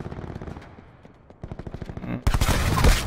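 Video-game gunfire from players pre-firing: rapid rhythmic bursts of automatic shots, then a louder, denser barrage near the end.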